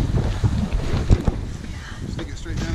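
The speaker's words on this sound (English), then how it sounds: "big gust of wind comes through." Strong wind gusts buffet a sailing catamaran at night under spinnaker, a steady roar of microphone-buffeting wind with water and boat noise and a few louder thumps near the middle.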